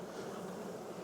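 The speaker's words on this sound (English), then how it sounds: "I got bees all the way through this thing." Honey bees buzzing in an opened hive during a spring inspection, a dense continuous drone held at an even level, close and unbroken for about a second.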